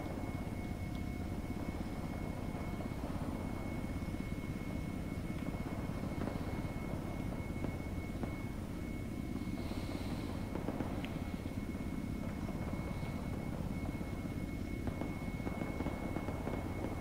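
Helicopter flying in the military game ARMA, a steady rotor and engine drone holding throughout at moderate distance, with no voices over it.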